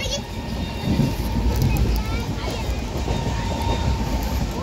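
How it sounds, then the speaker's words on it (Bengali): A metro train idles and rumbles at a station, heard from inside a carriage as a loud, steady low drone with a faint hum, while people talk nearby. "আমরা এখন ট্রেনে বসে আছি বসে আছি মেট্রো স্টেশনে"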